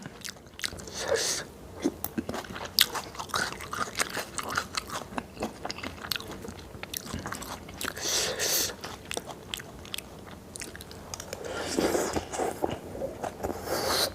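Close, crunchy biting and chewing of a spicy Thai salad with pork sausage, squid and oysters, eaten with shallots; steady wet crunches and chomps continue throughout with no talk.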